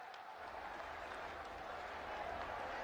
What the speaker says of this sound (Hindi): मैं चाहती हूं जोरदार तालियों के प्रणाम आप माननीय प्रधानमंत्री तक पहुंचाएं।